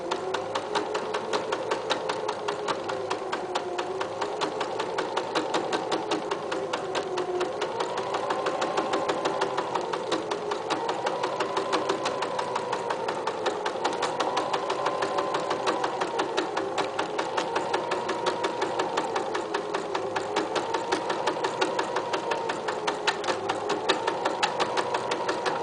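A sewing machine stitches fabric pieces together in a steady, continuous rapid chatter, close and fairly quiet, with no talk throughout.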